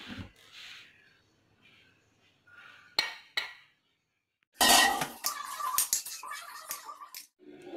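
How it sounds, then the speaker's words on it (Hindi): Mashed potatoes are mixed with onion, green chili, coriander and spices in a bowl for bread rolls, with intermittent clinks and scrapes of a spoon, then a longer busy stretch of mixing. "इसमें पोटैटोज में सारी चीज़ें मिक्स करेंगे, प्याज की, ग्रीन चिली और सब्ज़ धनिया"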